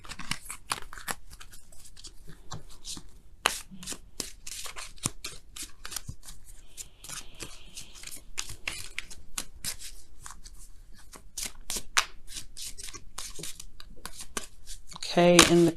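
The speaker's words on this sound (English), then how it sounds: "Now we're going to go ahead and pull you guys your oracle cards for the week." A deck of oracle cards is shuffled by hand, making quick, dry riffling and flicking sounds in bursts at close range, with a person talking over it.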